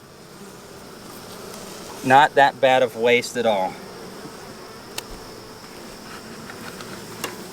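Honey bees in an open beehive hum with a steady, even drone throughout. Someone talks briefly in the middle over the buzzing.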